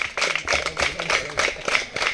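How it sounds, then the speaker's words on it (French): Children clapping at a school building inauguration in Dassa-Zoumè, Benin: steady, rhythmic group claps in regular bursts, fairly close and moderately loud, with no talk over them. "Les enfants, ça s'applaudit."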